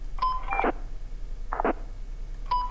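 An electronic alarm beeping in the horror fan game Graveyard Shift at Freddy's, three clustered bursts of tones repeating about once a second over a low hum, loud and with no talking.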